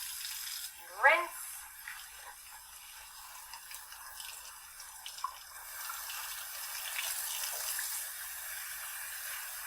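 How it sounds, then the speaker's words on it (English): Tap water runs steadily into a kitchen sink to rinse a washed dish, a soft continuous broadband wash that grows slightly fuller in the second half, with a brief squeak or clink near the start. "Next, you are going to turn your water back on. Rinse."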